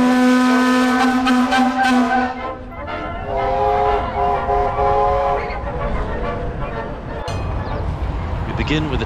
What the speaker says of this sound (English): We begin with a tram cavalcade. This is the procession of the 9 trams that are operating today